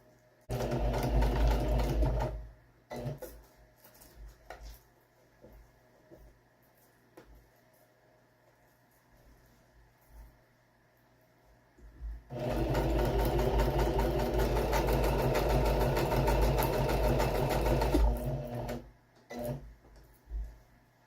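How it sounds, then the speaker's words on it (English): Sewing machine zigzag-stitching Velcro onto a pillow for a couch makeover, two long bursts of steady motor whir with rapid needle chatter, close and loud, separated by quieter handling noises. "I stitch this far enough back so the end of the Velcro is tucked in behind the stitch."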